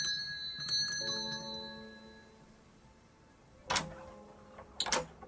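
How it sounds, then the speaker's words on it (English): Doorbell chimes in the video game Contradiction: two bright ringing tones with long decaying harmonics near the start, followed later by two sharper, louder clattering bursts, with no talk. "Let's ring the doorbell."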